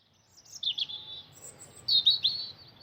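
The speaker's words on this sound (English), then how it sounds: "The raucous chirping of birds awakened me the next morning" Faint, high bird chirps come in two short bursts, with quiet stillness around them.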